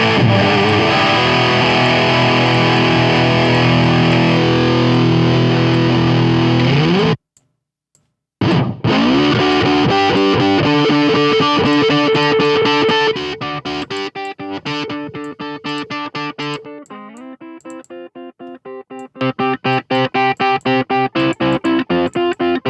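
A distorted electric guitar plays through the Kuass Amplifikation One amp plugin, loud saturated chords and riffs with a brief silent break, then cleaner picked notes before heavy distortion returns.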